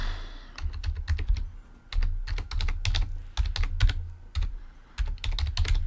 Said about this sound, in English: I will go like that, and type a few things